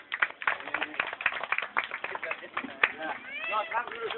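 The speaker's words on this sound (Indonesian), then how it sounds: "Luar biasa, tepuk tangan dulu." Children in an audience clap their hands in applause, with many quick, uneven claps mixed with lively voices talking and calling out over the clapping.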